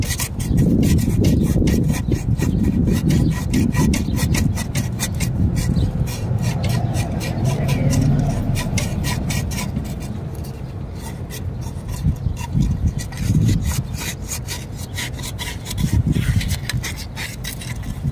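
Sanding scratches from a screwdriver off the chrome heater hose couplings of a 2008 Suburban, a steady close rasping scrub that runs continuously, easing off and then surging again in strokes.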